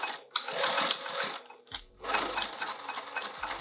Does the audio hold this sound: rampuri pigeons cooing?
no